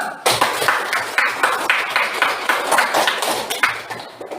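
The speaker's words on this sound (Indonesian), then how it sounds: "Tepuk tangan dulu." Students in a classroom clap together in a short round, sharp individual claps forming a fairly close, lively rhythm that fades at the end.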